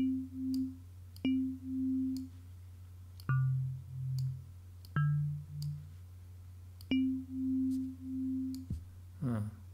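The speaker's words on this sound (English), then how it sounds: "Now, so that's that cosine wave." A pure cosine-waveform tone from the Arturia DX7 V synthesizer switching between two low pitches in short sustained notes, separated by sharp clicks, over a steady low hum.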